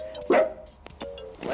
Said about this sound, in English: with me, as always, is my trusty dog, Chip